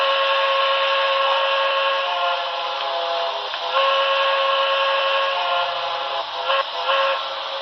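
A sustained, bright steam whistle from a Broadway Limited Paragon 4 model of an ATSF 4000 class locomotive blows continuously at close range, a steady harmonic tone with slight wavers in pitch.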